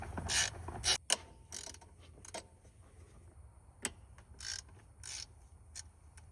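Ratchet clicking on 10 mm throttle body bolts of a 1999–2007 GMT800 truck, short bursts of close, crisp ratcheting separated by pauses, with faint knocks from the tool in between.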